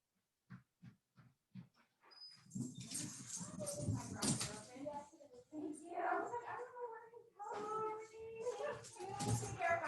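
A pet dog outdoors in a yard gives a few short, faint whimpers and yips at first, then a louder stretch of dog vocalizing mixed with household noise and a person talking nearby.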